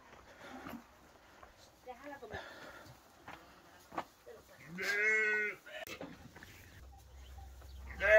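On a farm, a single sheep gives a loud, close bleat partway through, among scattered handling noises and someone talking quietly.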